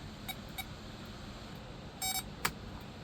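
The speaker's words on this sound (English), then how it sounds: "So you'll hear a tone like that where it's blinking with the power." A power probe's electronic tone beeps in short pulses with a blinking left turn signal on a C10 truck, a few brief high beeps at irregular spacing over a steady background hum, fairly faint.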